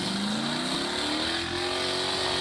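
Monster truck engine revving hard, a loud continuous roar climbing steadily in pitch as it accelerates, close and alone without talk.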